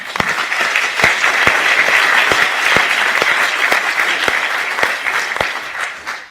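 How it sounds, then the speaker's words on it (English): An audience at an indoor talk claps in a loud, steady round of applause that holds for several seconds, with a few sharper individual claps standing out before it fades at the end. "So I'd like you to give them a round of applause."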